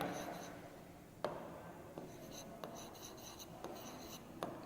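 Marker or chalk strokes on a classroom board during a maths lesson, faint scratchy writing punctuated by several sharp taps as strokes begin, heard close with no clear talk over it.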